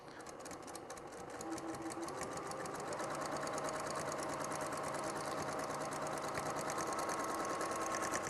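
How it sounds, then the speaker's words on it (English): Sewing machine stitching through pieced quilt triangles for a half burst quilt, a steady rapid mechanical chatter of needle strokes with motor hum running throughout, growing slightly louder after the first seconds. "We're going to stitch through this real nice and easy."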